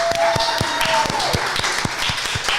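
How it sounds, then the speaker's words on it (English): Applause from a group at a birthday podcast gathering, a steady wash of clapping with sharp individual claps popping through, lasting a few seconds with no pause. "So everyone give yourself a round of applause for being cootie free."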